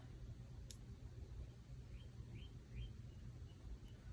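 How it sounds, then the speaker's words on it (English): Birds singing outdoors, heard as a few faint, brief chirps spaced across the middle of the clip over a low, steady indoor hum. "I can hear the birds outside."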